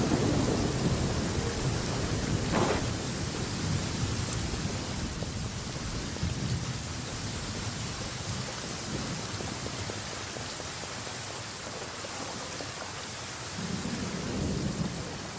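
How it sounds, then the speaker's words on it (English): Steady rain pours over a courtyard in Genshin Impact, with rumbles of thunder rolling through a broad, continuous wash of falling water that swells slightly at the end. "I love listening to the rain from the courtyard."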